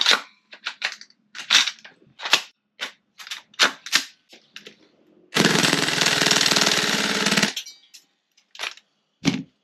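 Tokyo Marui MWS airsoft rifle in a high-speed build fires a string of sharp, close clicks and snaps, then a loud continuous burst of roughly three seconds, followed by a few more isolated shots.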